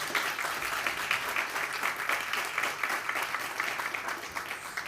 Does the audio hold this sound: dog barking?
no